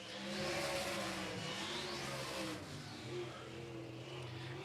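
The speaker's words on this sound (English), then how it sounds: "Pulling back onto the track is the 30 machine of Johnny Wasson from Santa Fe, Texas." Race cars roar around a dirt oval track, a continuous droning engine note that rises and falls as the cars pass, heard from a distance with no talk.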